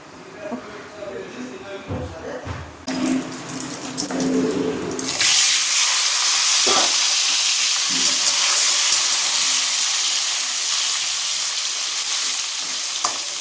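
Small tangra fish fry in oil in a wok; after some handling noises, a loud, steady, close sizzle takes over and hisses on without a break, with a voice speaking over it.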